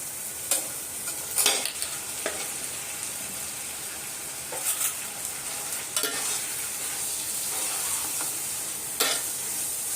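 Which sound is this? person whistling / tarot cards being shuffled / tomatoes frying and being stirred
tomatoes frying and being stirred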